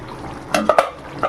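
A metal lid lifted off a pan of fish curry with potatoes, a few quick clinks and knocks close by against a quiet kitchen background, no speech.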